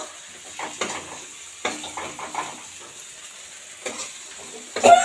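Spices are sautéed in a pan for spinach chorchori, with a low sizzle beneath irregular scraping and clinking stirs that come in short bursts and end with a sharper metal knock.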